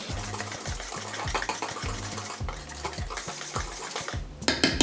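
Hot espresso being stirred into a moist chocolate cake batter in a bowl, a steady rhythmic churning with repeated low swishes and light clinks against the bowl, close and continuous for the whole stretch.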